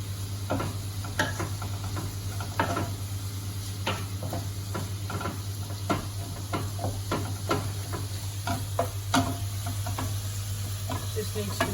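Onion sizzles gently in a pan for pumpkin katsu curry, with a soft continuous fry, a steady low hum and periodic clicks and taps of stirring.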